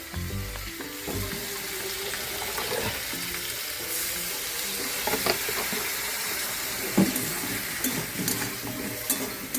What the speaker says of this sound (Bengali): সামান্য একটু জল লাগবে আমার।